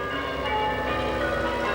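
Church bells ring continuously in a village, a dense steady peal of overlapping tones without pauses or voices.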